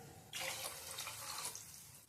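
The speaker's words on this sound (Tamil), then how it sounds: "இதுக்கு நான் 3 கப் அளவு தண்ணி சேர்த்துக்கிறேன்." Water poured into a cooking pot while making samba rava khichadi, a steady splashing rush of moderate loudness lasting about a second before tapering off, with no talking.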